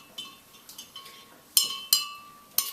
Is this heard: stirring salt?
yes